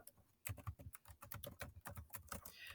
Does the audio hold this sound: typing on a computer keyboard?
yes